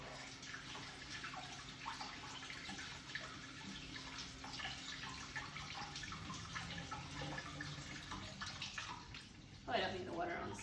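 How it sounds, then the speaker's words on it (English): A kitchen tap runs steadily while vegetables are washed for a bison steak dinner with sweet potatoes and zucchini, a continuous rushing water stream with a sharper splash near the end. "Oh, I don't need the water on so high."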